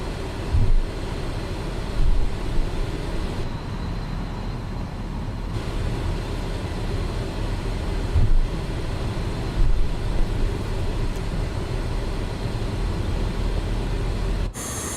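Contrail Falcon 50 II business jet taxiing in Microsoft Flight Simulator 2024, a steady loud engine roar and whine with continuous low rumble and occasional bumps from the gear rolling over the taxiway.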